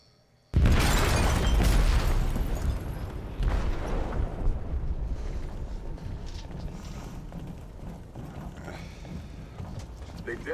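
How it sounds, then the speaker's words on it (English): An explosive detonates in a ship's hold in Detroit: Become Human, a sudden loud boom that rolls into a long rumbling roar and slowly fades over the following seconds. "They detonated an explosive in the hold."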